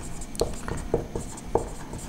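Marker or chalk strokes on a classroom board during a thermodynamics lecture, several short scratchy taps in an uneven rhythm, faint and close.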